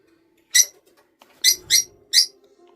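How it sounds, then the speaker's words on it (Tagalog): Four sharp, high bird calls in an irregular burst, close and loud, over a faint steady hum with a brief low rumble. "ang ingay ng ibon natin"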